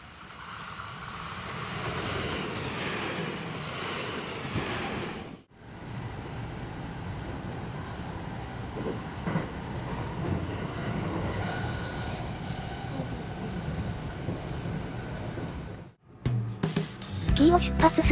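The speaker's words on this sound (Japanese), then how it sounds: "紀伊に近づくと撮影地の妙見踏切という踏切を通過します" A Hanwa Line rapid service train rumbles steadily at the Myoken level crossing, a continuous loud roar with a brief dip partway, and a voice speaks over it.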